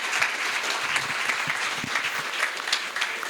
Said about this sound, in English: can we just give both of these two a big round of applause for putting this together?